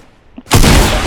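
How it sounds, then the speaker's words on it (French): Video game gunshot fired through a house: after a short hush, a single loud, close blast erupts and rumbles on briefly as a dense burst of noise. "Oh, il a tiré à travers une maison."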